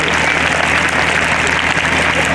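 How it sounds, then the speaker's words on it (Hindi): Dense, loud applause from an audience at a village school's annual function, many hands clapping steadily and evenly for the school principal with no pause. "एक बार जोरदार तालियां आपके संस्था प्रधान की"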